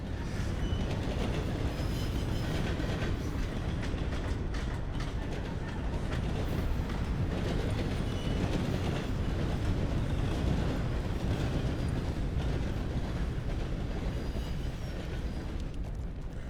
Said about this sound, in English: Let me try and wait for this train